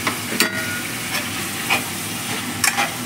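Egg masala curry with freshly added coriander sizzles steadily in the pan while a spoon stirs it, leaving a close, continuous frying hiss broken by several short scraping stir strokes, with no voices.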